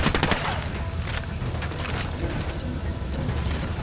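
Gunfire in the tactical shooter Ghost Recon Wildlands, a loud continuous fusillade of overlapping shots with sharp cracks near the start, dense and close throughout.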